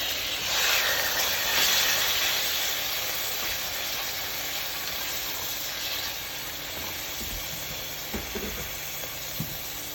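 Shrimp marinated in miso and vinegar sizzle in a hot pan for a kimchi stir fry, a steady broad hiss of frying with a few small pops and clinks near the end.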